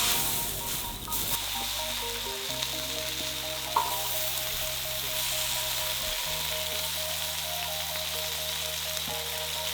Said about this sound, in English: Now we fry these until they're crispy and cooked through